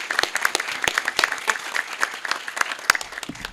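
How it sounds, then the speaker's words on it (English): An audience at a business breakfast event applauds its sponsors and partners: a short burst of lively clapping from a modest crowd, with individual claps standing out, heard alone. "Let's just give a final round of applause to all of our sponsors and partners."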